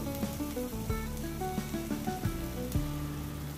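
Ginger paste fries in a hot pan with cumin for an aloo chingri curry, giving a steady sizzle with small crackles and faint stirring throughout.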